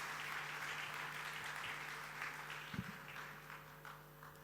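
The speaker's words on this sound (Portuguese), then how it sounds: "Uma salva de palmas para os nossos primeiros oradores convidados." Applause from an audience at a European funds showcase pitch event, quiet and somewhat distant, a soft steady patter of many hands with a few sharper claps near the end.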